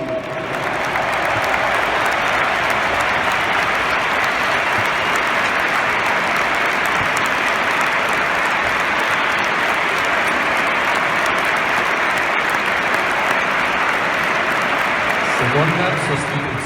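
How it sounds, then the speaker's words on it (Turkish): A packed football stadium applauds as Francesco Totti enters an away match: a loud, unbroken wall of clapping and crowd roar that holds steady for the whole stretch. "Francesco oyuna girerken tüm stat bir dakika boyunca elleri patlayıncaya kadar alkışlıyor"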